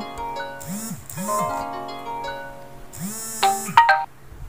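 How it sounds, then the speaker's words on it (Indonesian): A telephone ringtone plays a repeating melodic chime pattern in clear bursts, loud and close, ending with a few brighter tones. "Sorry agak terganggu, ada telepon tadi ya."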